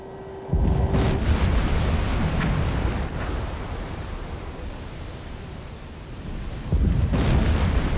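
Torpedo explosions in the Silent Hunter 4 submarine game, a loud sustained roar with deep low rumble that swells at the start and surges again near the end, with no talking.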